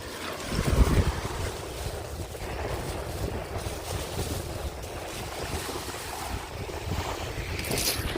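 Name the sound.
ocean waves on beach at Sanibel Island, Florida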